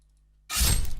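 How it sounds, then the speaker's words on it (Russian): A critical hit sound effect from a video game battle against a wolf: silence, then a single loud, sudden crash with a sharp attack and a bright, shattering texture that rings on to the end. "чтобы просто услышать звук вот этот вот крита"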